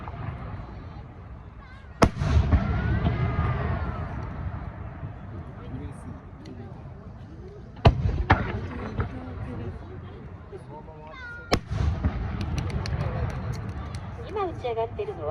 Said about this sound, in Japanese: 今打ち上がっているのはヤシという花火です。